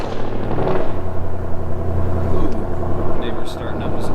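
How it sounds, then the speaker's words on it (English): A Ford Mustang S550 with a 5.0 engine and 8-speed automatic fires up and settles into a deep, steady, loud rumble up close, with people talking over it. "Starting up his S550."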